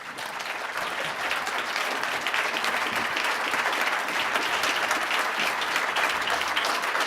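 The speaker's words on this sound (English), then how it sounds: "Would you all give them a round of applause as they do that?" Audience applause at a university atheist-versus-theist debate as the debaters shake hands at the front, a dense, steady clapping from a large crowd filling the hall for about seven seconds with no talk over it.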